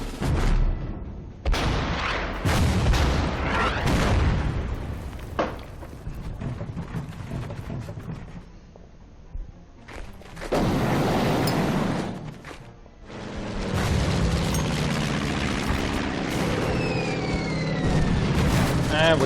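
Artillery fire and explosions in the World War II strategy game Order of Battle, Blitzkrieg campaign at Mlawa: loud, heavy booms burst out repeatedly over a rumbling, rain-like wash of battle noise, with quieter gaps between the barrages.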